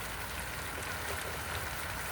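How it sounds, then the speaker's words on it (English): Steady light rain falls on a surface during a spotty Arizona shower, a soft continuous patter with no break across the whole stretch, fairly faint and with no voices. "Not enough rain to flood"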